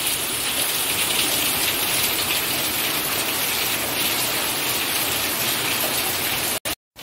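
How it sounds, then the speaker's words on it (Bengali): Heavy rain pouring outside, a dense, unbroken hiss of downpour on surfaces, loud and constant, cut by a brief dropout near the end. "এই একদম মুসুর ধারে বৃষ্টি শুরু হয়েছে, একভাবে বৃষ্টি হয়ে যাচ্ছে।"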